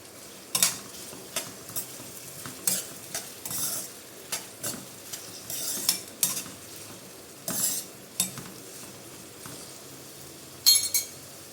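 Six ring-sliced onions and three green chillies fry in hot oil with a continuous sizzle, while a metal spoon scrapes and clinks against the pan in repeated bursts, nearby, with no voices.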